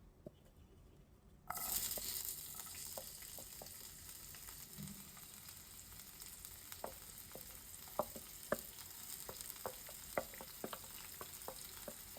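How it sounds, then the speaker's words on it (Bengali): Onions hitting hot oil in a pan burst into a sudden loud sizzle, then keep frying with a steady crackle and scattered pops and spatters, close up, with no talking. "পেঁয়াজটা ভেজে নেব দেখাচ্ছি"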